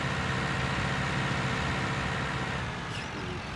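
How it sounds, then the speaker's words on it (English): A tractor engine idles in Farming Simulator 19, giving a steady low rumbling drone at close range that holds constant throughout, with no talk. "And we're gonna use the tractor"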